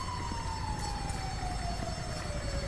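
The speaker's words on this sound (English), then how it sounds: "we're in the ambulance, I think." An ambulance siren in the video game GTA 5 wails as one long, steadily falling tone, fairly faint beneath a low rumble of traffic and game ambience.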